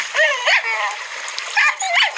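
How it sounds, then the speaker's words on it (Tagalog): A dog near Taal Volcano gives high whiny yips and yelps in short bursts, close by, amid some background noise. "Ingat po aking aso"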